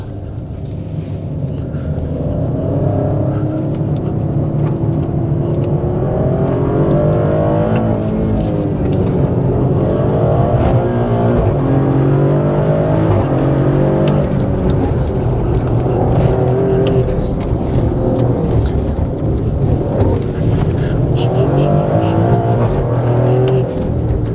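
Maserati Grecale Trofeo, a 530 hp sporty SUV, accelerating hard in Corsa driving mode with manual shifting and stability control off; a loud, continuous engine roar rises and falls through gear changes.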